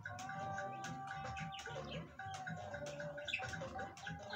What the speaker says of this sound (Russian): Птички поют.